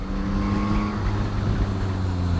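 Yamaha MT-09 motorcycle engine and airbox induction noise while riding, a steady droning roar with a low rumble and faint shifting tones, loud and continuous throughout with no talk.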